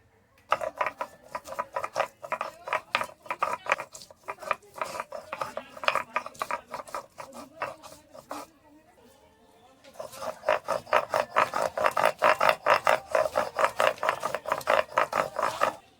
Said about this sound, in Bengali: এবার আমি আদা বেটে নিচ্ছি।